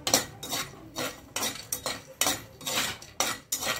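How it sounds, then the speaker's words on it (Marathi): Whole spices dry-roast in a pan over a fairly high flame, stirred with rhythmic metallic scraping strokes, roughly two per second. The strokes are close and distinct, with no talking. "छान भाजून घ्यायचे आहेत। गॅस थोडा मोठाच ठेवलेला आहे।"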